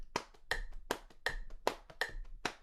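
Hand claps in a steady counted pulse, about seven sharp strikes spaced roughly a third of a second apart. They vary slightly in loudness as though some beats are stressed, and they ring out alone in a fairly quiet room.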